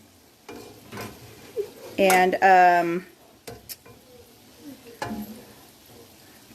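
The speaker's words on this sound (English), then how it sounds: "Again, what we're frying in is canola oil." Snacks frying in canola oil in a home kitchen, a soft crackling sizzle running under speech, with a few stirring and utensil clinks and brief louder bursts of bubbling.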